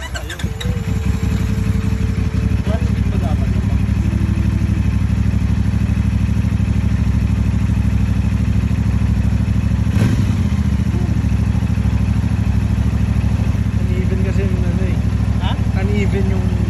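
A motorcycle engine runs steadily with a low rumbling idle throughout, while a person talks over it and occasional clatter rises above the hum.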